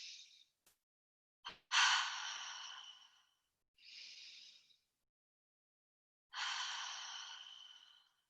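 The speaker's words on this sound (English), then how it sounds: "the breathing styles, we're breathing in through our nose and out through our mouth." Deep breathwork cycles during a live breathing masterclass: long, fairly loud breaths drawn in through the nose and pushed out through the mouth, with a short sharp intake, a sustained exhale, a softer breath and another long one, close and alone with no talking.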